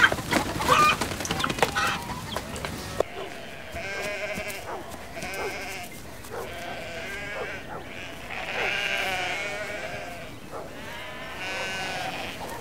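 Sheep bleat repeatedly on a rural farm in Peru, several wavering calls in a row at moderate distance following a short burst of other noise at the start, with no talk over them.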